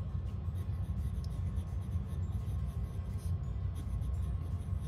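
Muji fountain pen writing in reverse on paper, a faint, close scratchy scraping of the nib in short repeated strokes over a steady low background hum.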